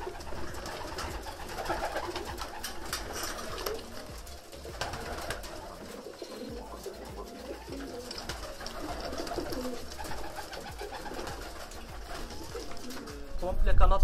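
Black-grizzle pigeons coo continuously, several birds overlapping in a busy, echoing space, with a louder rustle right at the end.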